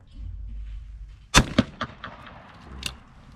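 A shotgun fires at clay targets during a skeet singles round, several sharp bangs spaced about a quarter second apart followed by one more, ringing out close against low outdoor rumble.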